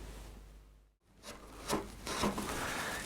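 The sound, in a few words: carving wood, cleaning up edge of carved wooden shirt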